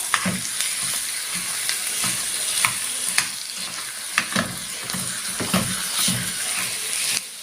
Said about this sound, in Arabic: لسه مستمرين ان احنا نقلب عشان كمان الفلفل ياخد تشويحة مع البصل